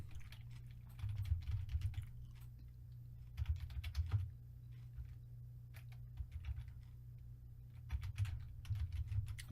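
Someone learning to type properly taps on a computer keyboard at a slow, uneven pace, with bursts of keystrokes and short pauses between them, close and clear with no talking.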